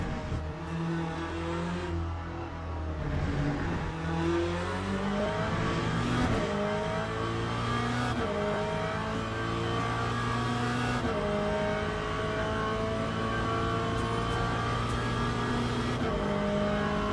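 A race car engine in the Le Mans Ultimate racing game drones loudly and steadily, its revs climbing and dropping through gear changes, with no voices over it.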